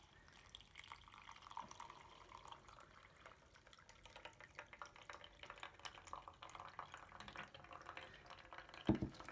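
Dirty water full of grass and debris dripping slowly through a homemade filter into a container, a faint, steady patter of small drips with a brief louder splash near the end.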